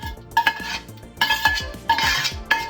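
A utensil scrapes and clatters in a pot as an onion and celery mix cooked in two sticks of butter is stirred into stuffing, several close knocks and scrapes with no speech.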